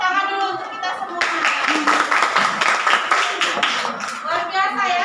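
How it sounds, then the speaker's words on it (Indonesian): Classroom applause at a primary school lesson in Indonesia, a group of pupils clapping hands steadily and loudly for about four seconds, with children's voices chattering before and after. "Tepuk tangan dulu untuk kita semua."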